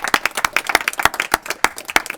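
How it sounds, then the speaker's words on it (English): A small group claps in a Kentucky Senate agriculture committee hearing, a short, uneven round of sharp individual hand claps, fairly close and loud, with no talk over it. "Give them a round of applause for being here."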